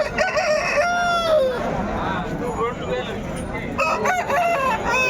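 Roosters of Tamil Nadu breed crow repeatedly at the Pileru chicken market in Andhra Pradesh, loud and close, overlapping with clucking hens and a murmur of market chatter.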